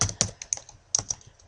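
Typing on a computer keyboard while entering a date in Microsoft Word, heard as a short series of close, crisp key clicks in uneven clusters with no talking.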